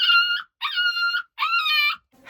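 Small dog whimpering inside a drain pipe, three drawn-out, high, tonal whines in a row with short pauses between, close and clear with no talk.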